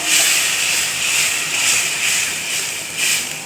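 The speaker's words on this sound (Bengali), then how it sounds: "এবার আমরা দিয়ে দিচ্ছি পেঁয়াজটা পেস্ট করা।" Onion paste hits hot spice masala in a pan and sets off a loud, steady sizzling hiss that swells and eases slightly throughout, with no talking.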